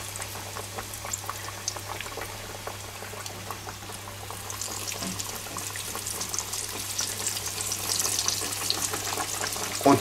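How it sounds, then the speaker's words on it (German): Chicken pieces deep-frying in hot oil, a steady bubbling sizzle that grows slightly louder over time and is heard alone with a low constant hum beneath it. "Und tun die fertig frittieren, bis sie schön braun und knusprig sind"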